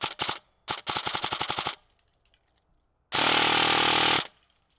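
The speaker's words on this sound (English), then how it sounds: "This is testing the AT1000 at a highest capacity with 40 rounds a second" Airsoft gun fitted with an Acetech AT1000 tracer, fired first in quick semi-automatic bursts of sharp cracks, then after a pause a dense one-second full-auto burst at about 40 rounds per second, loud and close.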